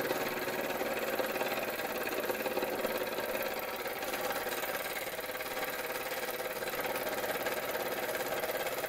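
A small Linemar J-2734 Japanese model steam engine runs steadily, giving a faint, even, continuous whirring hiss close by, with no voices.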